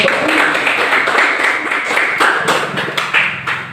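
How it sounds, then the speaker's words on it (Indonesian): A classroom group applauds during an Indonesian civics lesson, giving a dense, steady burst of clapping that tapers off at the end, with some voices mixed in. "Ya, tepuk tangan."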